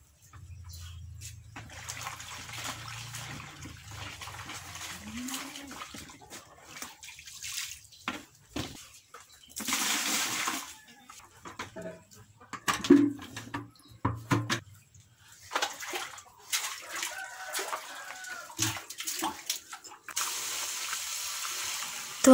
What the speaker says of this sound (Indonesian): Tuangkan air hingga seluruh bagian daun dapat terendam.